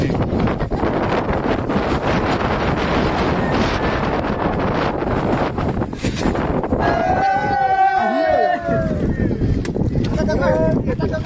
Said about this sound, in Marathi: आहे प्रचंड वारा आहे